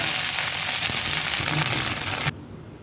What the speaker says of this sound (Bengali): একটা কড়াই গরম করে তাতে দু চামচ মতো তেল দিয়ে দিলাম তেলটা একটু গরম হয়ে গেলে এতে কেটে রাখা ভেন্ডিগুলো দিয়ে দিলাম